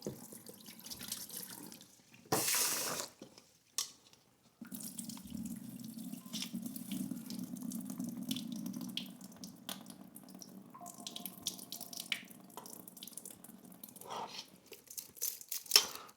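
Tap water runs into a sink while rice is rinsed to wash off its starch. The steady close splashing comes with a few crinkling handling noises and brief pauses, and no one speaks.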